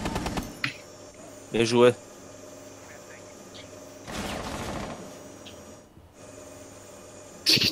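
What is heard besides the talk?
gunfire in the video game Rainbow Six Siege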